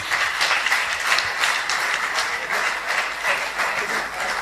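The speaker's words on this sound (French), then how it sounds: "je vous demande, mesdames et messieurs, fièrement d'applaudir Monsieur Zuhair Zil Abidine" Steady, full applause from a seated audience at a debate event in Marrakech, honouring the jury president. The dense clapping holds at an even level throughout, with no speech over it.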